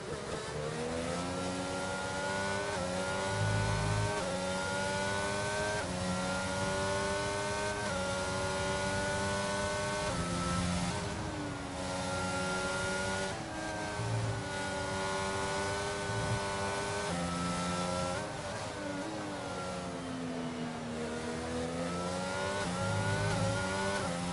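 Formula 1 race cars in a racing video game, heard from on board at Miami, produce a continuous high whining engine tone whose pitch rises and dips as the car accelerates and brakes, loud and steady throughout.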